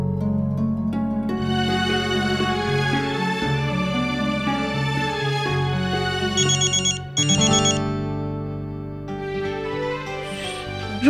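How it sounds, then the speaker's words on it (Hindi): A melodic phone ringtone plays loud and continuously, its tune pausing briefly before resuming and carrying on to the end. "रुक्मिणी बहन का फोन है।"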